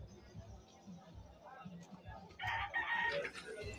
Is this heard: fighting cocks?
yes